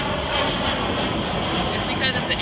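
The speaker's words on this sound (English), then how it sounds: "it's because it's an airplane." An airplane flies overhead near an airport, a steady broadband engine roar that stays loud and close for the whole stretch while a person talks over it.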